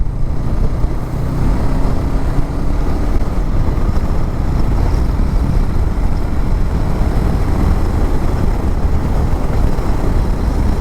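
A Honda Rebel 500 cruiser motorcycle rides at highway speed, near 130 km/h. A constant, loud wind roar and low engine rumble run unbroken throughout.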